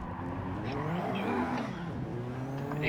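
A race car at a time attack event braking hard from about 126 mph into a corner after a banked carousel, heard faint and distant, the engine note falling with a brief tire squeal, no voices.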